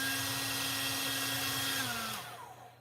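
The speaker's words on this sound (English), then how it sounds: "I am gonna be using the hair dryer, which is gonna be a little loud." A hair dryer blows steadily on watercolor paint, a loud close whoosh with a constant whine that drops in pitch and fades as it switches off near the end.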